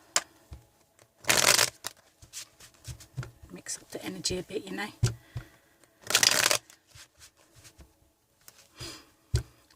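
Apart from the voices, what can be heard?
shuffling a deck of tarot cards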